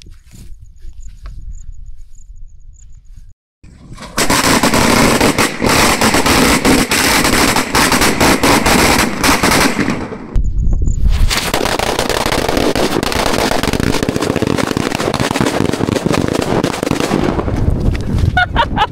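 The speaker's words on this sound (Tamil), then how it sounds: "அந்த கடைசிலேருந்து அந்த கடைசி வரைக்கும் நம்மளுக்கு வெடி இருக்குது." A long string of Tamil Nadu country firecrackers crackles and pops in rapid, dense bursts, very loud and close, pausing briefly before erupting again.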